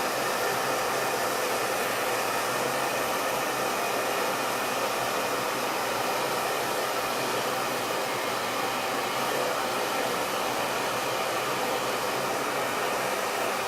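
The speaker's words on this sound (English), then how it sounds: "The dryer really is quiet." A hair dryer blows continuously with a steady, even rushing whoosh, close and unchanging throughout, with no talking.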